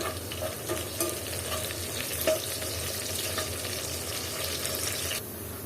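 Fish head with spices and two bay leaves sizzles and fries in a pan while being stirred, a steady crackling hiss with scraping stir sounds, close and continuous.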